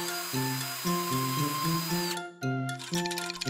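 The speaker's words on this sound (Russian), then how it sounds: "В каждом колесе сделаем отверстие почти у самого края." A power drill bores holes near the edge of cardboard wheels, whining in several short bursts with brief pauses between them, close and alone.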